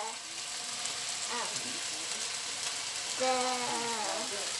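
Garlic and onion frying in a pan for cheesy chicken broccoli rice, a steady soft sizzle with occasional scraping stirs, a voice speaking briefly.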